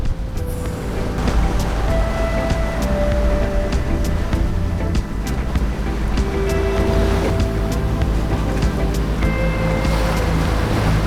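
A sailboat pushing through waves, loud continuous rushing water and wind buffeting close to the microphone, with occasional creaks and knocks from the boat and brief faint tones.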